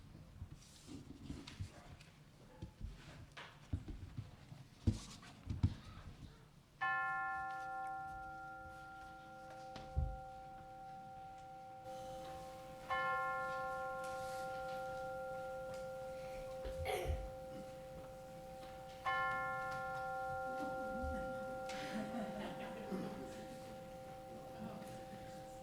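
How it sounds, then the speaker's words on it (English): Chimes are struck three times during a church service, each tone ringing out clearly and sustaining for several seconds before fading, over a faint room background. "let us center our hearts and minds with the ringing of the chimes"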